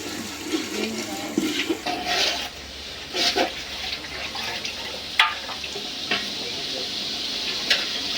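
Mutton goes into spices frying in a pot for khichuri, making a steady sizzle with bursts of stirring and scraping, and some faint talk in the background.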